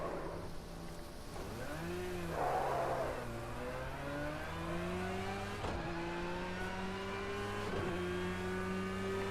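A racing car's engine in a video game revs and shifts through rising and falling tones, holding a steady drone close and loud, with brief dips between gear changes and no talking.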